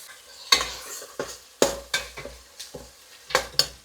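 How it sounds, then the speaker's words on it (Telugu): A spoon stirs tomato masala with fresh coriander and mint in a pan, making about eight sharp scraping strokes at an uneven pace, close and clear, with a light sizzle underneath. "కొత్తిమీర, పుదీనా వేసి మిక్స్ చేసేద్దాం"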